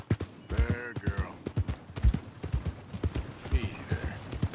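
Horse hooves clip-clop in a quick, uneven rhythm in Red Dead Redemption 2, close and loud, with game voices calling out over the hoofbeats.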